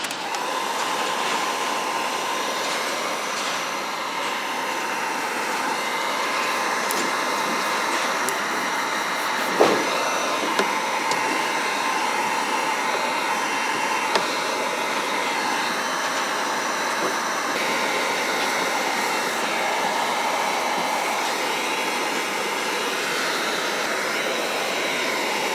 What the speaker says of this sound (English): while you're heating up this body line, it gives you a chance to somewhat heat check this fender